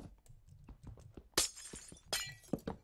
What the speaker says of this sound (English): All this freaking glass that I put around, I'm breaking.